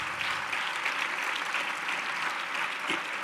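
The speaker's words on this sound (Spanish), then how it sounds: "Un fuerte aplauso también para la gente que trabaja en el streaming" Steady applause from an audience at a stem cell and cell therapy talk, a dense, even wash of clapping that holds for the whole few seconds at moderate level.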